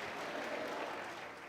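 A church congregation clapping loudly for the Lord during a sermon, a dense crowd applause that holds steady and tapers slightly toward the end, heard somewhat distant and faint.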